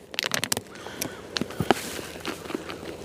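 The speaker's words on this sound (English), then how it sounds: "Hearing birds." Outdoors at a winter campsite at sunrise, a few sharp bird calls ring out nearby among crunching, shuffling steps, brief and scattered rather than a steady chorus.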